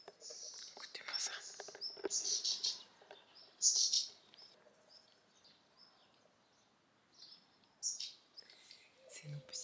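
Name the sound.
small birds singing outside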